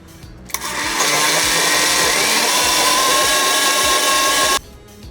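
A countertop blender whizzes oats and water into oat milk, a loud, steady motor roar that starts suddenly, holds for about four seconds and cuts off cleanly, with no voices.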